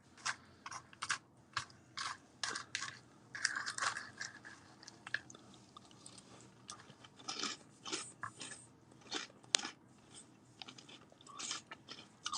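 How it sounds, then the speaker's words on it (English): Crunchy food is chewed up close: repeated sharp bites and crunches come in uneven bursts with short pauses between them, loud and dry, with no talking. "Some people are triggered by eating, crunching."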